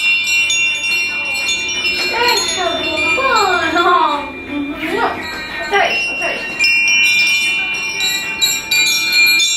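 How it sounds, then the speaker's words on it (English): Small household chimes touched by a 6-month-old baby, ringing with sustained tinkling tones throughout, while a person speaks briefly in the middle. "like little chimes that we put in the house, and she loves how the noise it makes."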